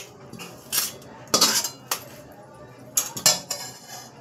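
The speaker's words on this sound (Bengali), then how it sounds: "এবার আমি পোটটা নামিয়ে দিচ্ছি।" A cooking pot is lifted off the stove in a home kitchen while prawn and banana-flower chop is being made, giving several sharp metallic clanks and scrapes in uneven bursts, close and fairly loud.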